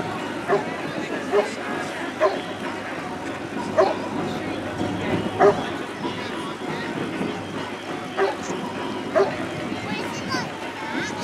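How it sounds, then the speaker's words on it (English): Newfoundland dogs bark in short bursts, about one every second or two, while they wait aboard a boat for a water rescue display, with a busy outdoor crowd murmuring beneath. "Dogs rearing to go out and waiting here"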